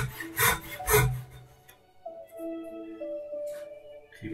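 A hand saw cuts through wood for a Christmas crib, giving two quick rasping strokes up close before the sound drops away to near quiet.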